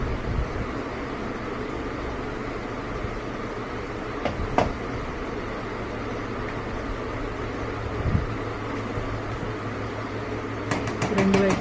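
Murukulu, a crisp Telugu snack, frying in hot oil at home, giving a steady, close crackling sizzle with a few brief clinks and a faint voice in the background.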